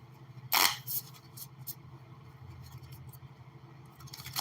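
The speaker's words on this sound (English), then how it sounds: "I have to shuffle in like 4 sections." A quick riffling burst of a large deck of cards being shuffled in sections, followed by a few lighter taps and shuffles, close and clear in a quiet room.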